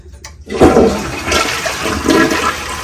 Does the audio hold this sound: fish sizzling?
no